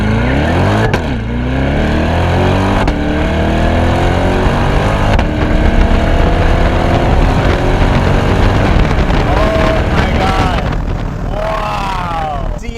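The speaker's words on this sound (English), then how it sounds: "Let's try out launch control." A 2020 Chevrolet C8 Corvette Stingray Z51 3LT with an automatic transmission launches hard from a standstill, its engine roaring loud and close through continuous rising gear sweeps and quick upshifts for the whole run.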